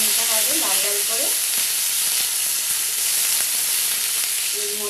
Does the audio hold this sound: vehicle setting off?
no